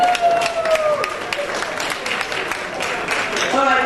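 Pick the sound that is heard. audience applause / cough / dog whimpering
audience applause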